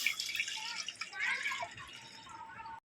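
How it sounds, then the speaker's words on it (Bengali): Water pouring into a cooking pan for phirni, a continuous close trickling and splashing that runs for under three seconds and then stops abruptly. "প্রথমে এতে একটু জল দিয়ে দেবো"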